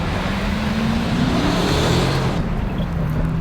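Dodge Charger police car pulling hard off the line on packed gravel, a loud continuous engine roar with rising pitch and a rough crunching rumble underneath.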